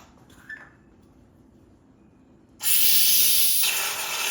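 A can of whipped cream sprays onto a chocolate cake in a home kitchen, a loud continuous hiss that bursts in after a short quiet pause and holds for nearly two seconds.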